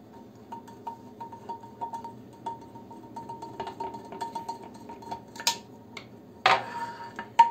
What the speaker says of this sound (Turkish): Öncelikle tavanın sapını çıkartıyorum.